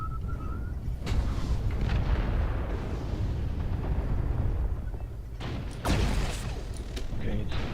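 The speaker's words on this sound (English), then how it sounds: "Artillery strike" Artillery strike in MechWarrior Online: heavy booming impacts land in bursts, with sharp blasts near the start and again late, over a rumbling mechanical bed while someone talks.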